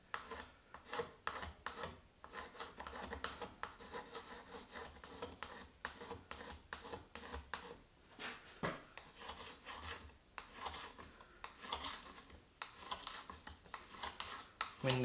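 A hand plane shaves the surfaces of a wooden board, repeated rough rasping strokes of irregular length, close and fairly quiet, with no talking.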